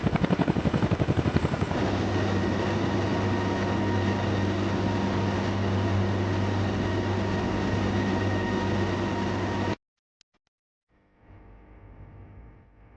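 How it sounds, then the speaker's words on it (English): A loud, steady helicopter rotor drone with a rhythmic thump, continuous for about ten seconds before cutting out, followed by quieter background noise. "As the helicopters approached the compound"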